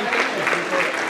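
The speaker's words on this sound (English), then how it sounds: "Please give them a round of applause." A short burst of crowd applause at an awards presentation, dense clapping mixed with some voices.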